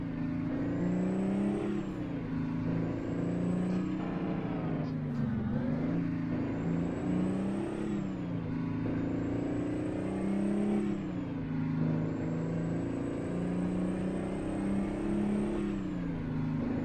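A custom Peterbilt truck engine in American Truck Simulator roars continuously, its pitch swelling and dipping in repeated revs, loud and close with no voices.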